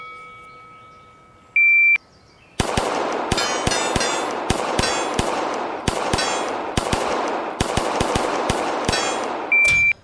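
Rapid pistol gunshots ring out in quick strings during a timed shooting drill, many ending in metallic clangs off steel targets, loud and close, preceded by two short start-timer beeps, with a final beep at the end.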